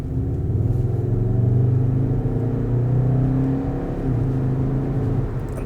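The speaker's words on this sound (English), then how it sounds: "it sounds, I know it's a fake engine noise, but it sounds so good on full chat." Skoda Octavia RS engine at full throttle with synthetic engine sound piped into the cabin, a steady loud rumble and whir climbing in pitch through a sustained acceleration, heard alone without talk.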